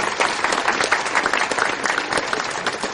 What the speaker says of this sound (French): on va l'applaudir encore